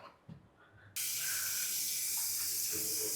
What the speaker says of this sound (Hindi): पानी से इसको अच्छे से धोना है।